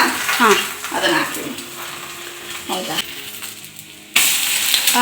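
Salt and chilli powder tempering sizzles in a pan for an egg dish, a crackling fry that swells louder near the end, with a voice speaking over the first part.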